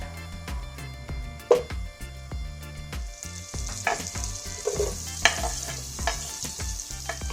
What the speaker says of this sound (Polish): W nieprzybierającym garnku roztapiam masło.